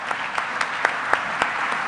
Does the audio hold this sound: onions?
no